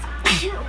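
One quick, sharp sneeze bursts out indoors, close and fairly loud, amid a background of voices.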